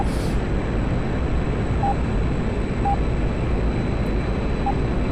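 An aircraft roars through its takeoff run in the DCS flight simulator, a steady, loud, broadband engine rush that holds unbroken from start to finish.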